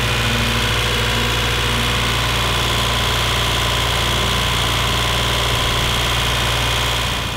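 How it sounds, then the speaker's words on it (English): A boat engine runs steadily at full throttle, a loud continuous drone with strong low hum and constant vibration, unchanging throughout. "Always test my engines at full throttle for just a little bit before I go on a big passage"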